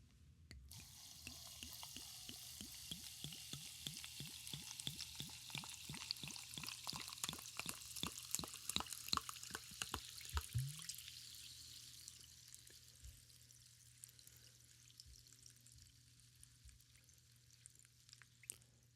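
Fizzing carbonated water pours from a bottle with a rapid glugging rhythm, then settles into a soft continuous hiss of bubbles.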